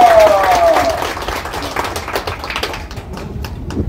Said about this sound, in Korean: 우리 회장님 올라오시면 뜨거운 박수로 환영해 주시면 감사하겠습니다